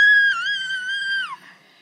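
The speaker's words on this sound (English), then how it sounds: "I want to hear you scream." A child's high-pitched, sustained scream, loud and close, holding one shrill pitch for over a second before sliding down and fading out.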